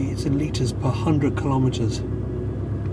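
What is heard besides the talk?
Porsche 928 engine running with a throaty rumble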